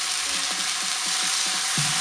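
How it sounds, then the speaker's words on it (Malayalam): Ground tomato paste and spices sauté in hot oil in a pan, giving a steady, close, bright sizzle with soft stirring scrapes heard alone. "ഇതിന് നന്നായിട്ട് എണ്ണ തെളിയുന്നിടം വരെ ഒന്ന് വഴറ്റണം"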